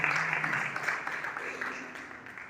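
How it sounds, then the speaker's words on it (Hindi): A church congregation at a Hindi-language revival service claps together, a steady dense wash of applause filling the space at moderate loudness, with a voice faintly audible beneath it. "सब यीशु के लिए ताली मारो"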